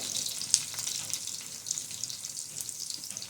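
Garlic sautéing in a pan over medium heat for a methi (fenugreek) bhaji, a steady close hiss of frying oil with faint stirring clicks, no voices.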